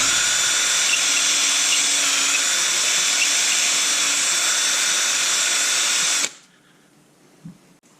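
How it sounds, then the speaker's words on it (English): A sandpaper mandrel spun by a drill scuffs the inside of a golf shaft, a loud steady high whine for about six seconds that stops abruptly, followed by quiet with a faint knock. "my little sandpaper mandrel here, and we'll run it inside just to scuff it up"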